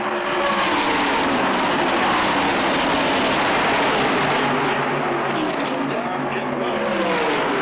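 Loud, continuous roar of stock race cars accelerating off a turn at Daytona, engines overlapping with rising and falling pitch as the pack passes, with a commentator talking over the engines.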